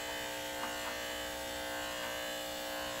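Electric hair clippers fitted with a 1-inch guard run over natural hair in a light cleanup trim, giving a steady, even motor buzz with no talking.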